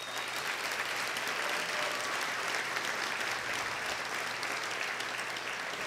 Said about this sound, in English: I wanted you to give them a round of applause.